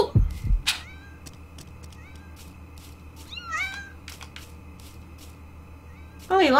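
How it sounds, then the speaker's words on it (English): Cats meow in the video game Yomawari: Night Alone as kitties are fed, with a few short rising mewls against a quiet, ticking game background, and a louder burst of meowing at the very end. "I'm feeding the kitties, yay!"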